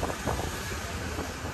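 Strong wind buffets the microphone at a zipline site in Chiang Mai, a steady broadband rush with low rumbling gusts that runs unbroken from start to finish and stays close and fairly loud.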